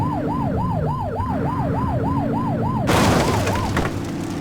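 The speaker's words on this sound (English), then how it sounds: "Get on their tail and flip the siren." Police car siren in a police-patrol video game, a loud, rapid wailing yelp cycling about ten times, then switching to a harsher, noisier tone with engine rumble beneath.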